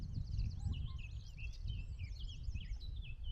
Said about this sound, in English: I don't know if you can hear all the birds in the background.